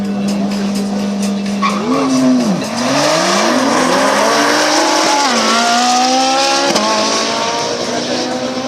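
Drag racing car accelerating down an airfield strip, loud engine notes climbing and dropping through gear changes with tire squeal, heard up close over an announcer's commentary.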